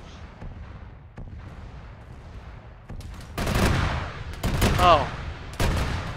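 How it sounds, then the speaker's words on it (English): Tarantula turrets firing in a multiplayer military shooter game, bursts of rapid gunfire and explosive booms growing louder toward the end, with a brief exclamation from a player. "It's the fucking tarantula turrets."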